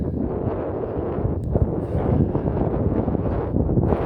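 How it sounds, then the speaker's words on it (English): Strong wind roars across a big open grassy area in Pennsylvania during deer season, a steady heavy rush with gusty surges and buffeting that fills the whole stretch, no voices. "This wind is just absolutely insane wind."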